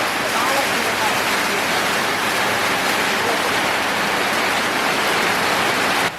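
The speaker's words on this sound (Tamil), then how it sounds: "நல்ல மழை பெய்யுது." Steady heavy rain falling continuously as a dense even hiss, loud and unbroken throughout.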